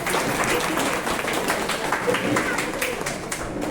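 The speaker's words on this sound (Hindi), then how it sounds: "इसलिए शर्मा सर के लिए एक बार ताली बजाइए।" Audience applause at a mock fire drill in Kamothe, Navi Mumbai, a steady wash of many hands clapping that holds evenly through the whole stretch at moderate loudness.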